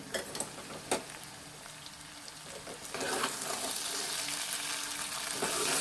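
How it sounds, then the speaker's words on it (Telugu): Okra in tamarind curry is stirred in an oily pan: soft scraping and clinks at first, then a fuller, continuous sizzle that builds and holds until the end. "ఇలా ఒక టూ టైమ్స్ త్రీ టైమ్స్ కలుపుకుందాము మళ్ళీ ఒకసారి కలుపుకుందాం"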